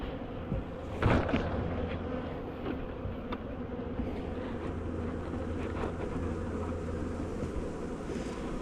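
Steady low buzzing of many honey bees close by at a hive, continuous throughout with a brief louder swell near the start.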